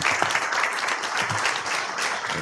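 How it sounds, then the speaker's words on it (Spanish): Audience at a talk on mobility and real estate applauds the minister as he arrives on stage, a full, even wash of many hands clapping at moderate loudness, unbroken from start to finish. "fuerte el aplauso para el ministro"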